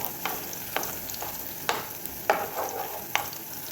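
Garlic and spices sautéing in a pan for a tuna flakes dish, a soft steady sizzle broken by sharp scraping and tapping strokes of a stirring utensil every half second or so, heard close with no talk.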